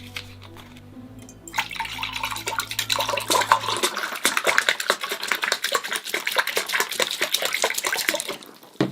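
Citrus juice pours from a carton into a container: a steady, splashy liquid stream with dense dripping and trickling detail that runs several seconds and then tapers off.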